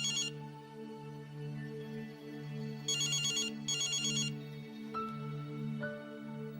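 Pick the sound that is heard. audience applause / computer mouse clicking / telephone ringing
telephone ringing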